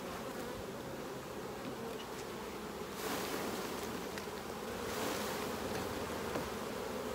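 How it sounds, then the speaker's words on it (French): A dense, steady buzzing of many honeybees, Saskatraz line, being shaken off hive frames into a plastic tub, fills the air, swelling louder twice in brief surges, with no voices. "Donc je secoue les abeilles."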